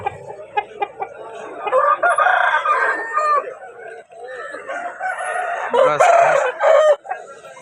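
A rooster crows repeatedly at a busy Sunday country-chicken market in Vijayawada, its loud calls mixed with clucking and the surrounding bustle of the stalls.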